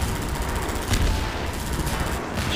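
Continuous, dense gunfire from Half-Life 2 combat against Combine soldiers: a steady, loud barrage of overlapping shots and blasts with no talking.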